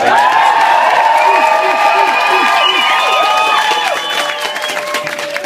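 Concert crowd applauding and cheering loudly, with whoops and shouts over dense clapping that stays strong before easing slightly near the end.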